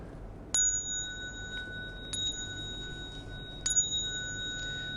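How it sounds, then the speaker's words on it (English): Three clear bell strikes in a Buddhist ceremony, each a bright ringing tone that sustains and overlaps the next, evenly spaced and close, with no talk over them. "Then you will hear three bells."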